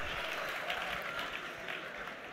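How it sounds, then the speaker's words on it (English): Teachers at an education event applaud themselves, a thick, steady wash of clapping from a large crowd that holds at an even, fairly loud level for the whole stretch. "If you are a teacher here today, can you give yourself a resounding round of applause?"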